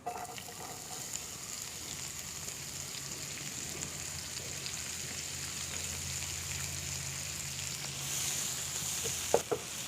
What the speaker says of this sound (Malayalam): ബാക്കി ഓയിൽ ചേർത്ത് ഇതിലേക്ക് നമുക്ക് അരിഞ്ഞു വെച്ചിരിക്കുന്ന സവോള ചേർക്കാം.